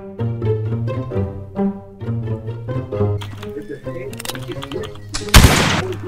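Gunfire in the Roblox game Blood And Iron: a few loud bangs and crackling shots break in late, over busy musical or tonal game sounds that dominate the first half.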